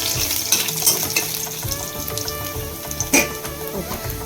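Tempering seeds, torn dried red chillies and onion pieces crackle and sizzle loudly in hot oil close by, with popping bursts and stirring scrapes, while cooking gongura-style chukka kura dal.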